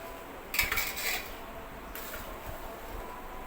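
Metal spoon scraping and clinking against a pan while jackfruit curry with cumin is stirred, a few close bursts of scraping and knocks over a quiet room.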